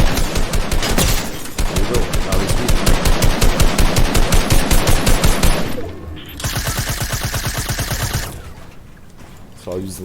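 Rapid automatic gunfire in a Fortnite Battle Royale match, loud, dense bursts running for several seconds, a brief pause, then a second, lighter volley of shots before fading.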